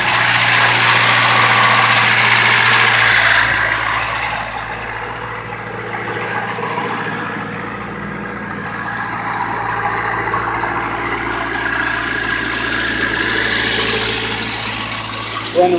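A car engine converted from OBD2A to OBD1 idles smoothly for several seconds, an even low rumble with a constant hum and no talking.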